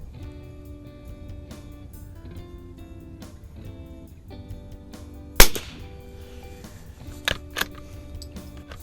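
A Mossberg 46b tube-fed .22 LR bolt-action rifle fires at an outdoor range. One sharp, loud crack stands out midway, followed by a couple of fainter pops, all over a steady background of tones.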